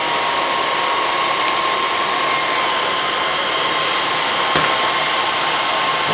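A hair dryer blows steadily and loudly throughout, a constant whooshing roar with a faint high whine, no voices.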